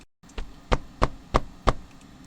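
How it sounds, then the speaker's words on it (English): Five sharp knocks on a door, evenly spaced and fairly loud, rapping alone against a quiet background after a brief silence. "there was a knock at the door"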